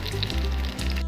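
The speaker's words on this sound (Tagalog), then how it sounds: "Prito din tayo ng isda para pang sahog." Fish fries in a pan for a munggo dish, giving soft, continuous sizzling and crackling at close range with small bursts of spattering.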